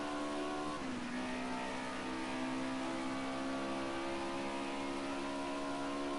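A BMW M3 race car accelerates at Silverstone, its engine note rising and holding as a steady whining drone for several seconds, loud and continuous with no talk.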